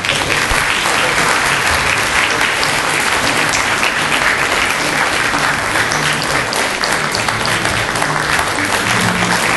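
Loud, sustained applause from a large audience at a university entrance ceremony, steady and dense throughout with no pauses.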